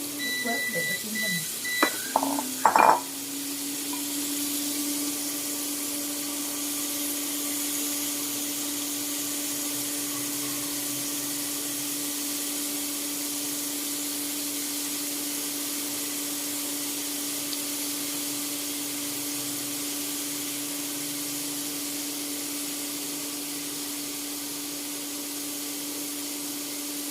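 Sand goby fish fry in hot oil with a steady, even sizzling hiss that lasts about 25 seconds, after a few brief clicks and beeps at the start, with a faint hum underneath.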